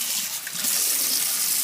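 Tap water runs into a kitchen sink while raw steak is rinsed under it, a steady close splashing hiss with no voices.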